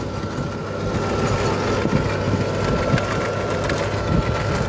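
A John Deere 6210R tractor rolls past outdoors at a silage operation, a steady low engine rumble with some rattling and clanking, fairly loud and without speech.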